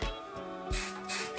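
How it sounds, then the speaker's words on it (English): Aerosol hair wax sprayed onto hair in short close hissing bursts, about three quick sprays in a second and a half. "I am going to add a little bit of more aerosol wax"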